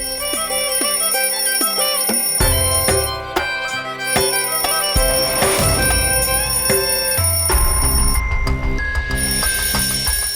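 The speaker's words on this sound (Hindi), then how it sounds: "समर तुम्हारा अलार्म बज रहा है, बंद करो।" A bright, electronic alarm-like ringtone plays a repeating chiming melody, loud and continuous, with no voices.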